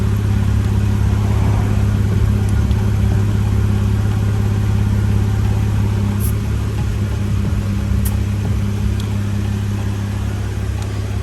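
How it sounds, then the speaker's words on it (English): GOBEGE and ARB portable air compressors running together while inflating tires, a loud continuous mechanical drone with a steady low hum, unbroken for the whole stretch. "the Gobege and the ARB compressor, inflating these tires from absolutely nothing"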